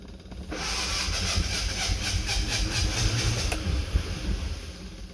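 A 50-year-old car engine cranks over with the key and catches, then runs steadily with a loud, rough, hissing idle throughout, throttle cable seized so no gas pedal is used.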